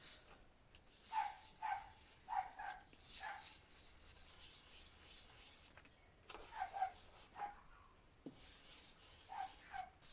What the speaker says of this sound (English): of course next door's dog's going to start yappering